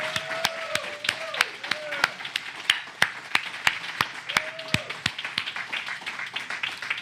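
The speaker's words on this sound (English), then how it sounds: "can we give Stephen Wise another round of applause?" A small audience at a church service claps after a song, sharp individual claps spaced fairly evenly, with a person talking over them at moderate distance.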